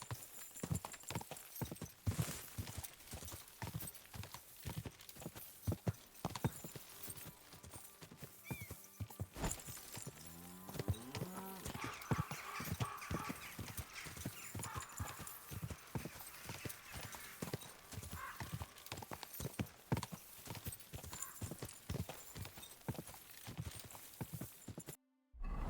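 Horse hooves clip-clop steadily in Kingdom Come Deliverance 2, a continuous close rhythm of hoofbeats with a neigh partway through, under game ambience.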